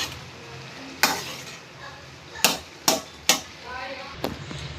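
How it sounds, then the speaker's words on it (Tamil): Yippee noodles with masala are stirred in a pan with a spoon, giving four or five sharp scraping knocks against the metal over a faint sizzle, close and otherwise quiet. "இப்போ நல்லா கிண்டிக்கிறலாம்."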